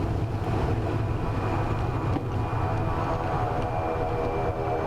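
Crop-dusting airplane engine flaring and touching down on a hillside airstrip, a steady loud drone with wind rush that holds through the landing and dips briefly at touchdown.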